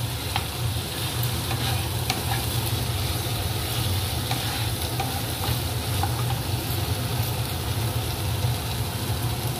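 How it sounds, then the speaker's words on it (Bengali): Ginger paste frying in a pan for a Bengali foloi fish curry, a steady close sizzle with scraping stir sounds throughout and a low hum underneath, no talk. "এবার দেওয়া হচ্ছে আদা বাটা, দিয়ে ভালো করে কষানো হচ্ছে"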